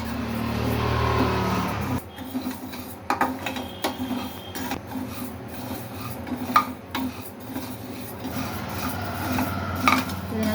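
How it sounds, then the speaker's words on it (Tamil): Raw rice dry-roasting in a pan, stirred continuously, giving a steady scraping, rasping rattle of grains against metal with irregular louder scrapes, close and without speech. "பச்சரிசியை நல்லா வறுத்துடுறோம்."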